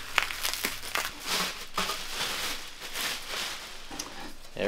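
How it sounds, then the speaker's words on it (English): Plastic packaging crinkles and tears as wrapping is pulled off a Lenz Sport SkiBike frame, a steady run of close rustling and crumpling with brief sharper rips. "so you can just unwrap the frame"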